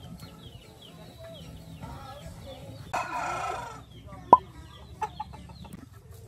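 Chickens on a farm cluck softly in scattered bursts, with a brief louder crow or squawk in the middle and a few sharp calls after, fairly faint over low background noise.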